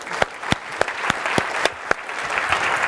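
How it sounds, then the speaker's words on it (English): An audience at a mixed reality tech presentation gives a second round of applause, steady dense clapping with a few sharp louder claps standing out, continuous and moderately close. "it requires a second round of applause"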